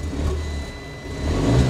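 A Fiat 500's 85-horsepower two-cylinder engine running after start-up, giving a steady, throbbing low drone heard up close that swells slightly toward the end, with no voices.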